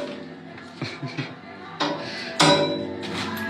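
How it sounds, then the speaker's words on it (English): Glass is struck with a hammer, giving a series of sharp, close knocks and bright clinking impacts that grow louder, with a ringing crash near the end. "Why would you hammer glass?"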